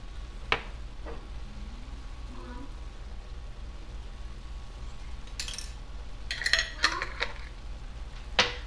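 A spoon scrapes and clinks against a cooking pan as an Italian stuffed zucchini filling is mixed, with sparse metallic taps early and a cluster of sharper clanks later over a quiet background.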